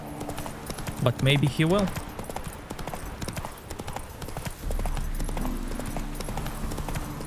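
The horse Roach trotting in The Witcher 3 Next Gen, a steady close clip-clop of hooves throughout, with a short whinny early on and someone talking over it.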